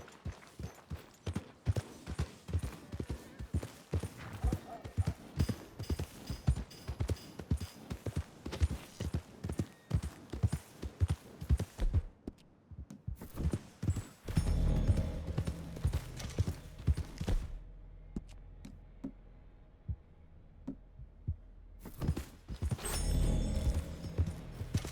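Hooves of a horse in a hunting video game clip-clop at a steady walking rhythm, close and fairly loud, with a heavier, muddier stretch of steps toward the end and no talking.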